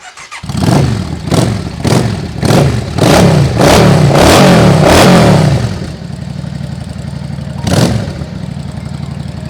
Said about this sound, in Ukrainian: Давай заведемо, подивимось, як цей суперчарджер робота.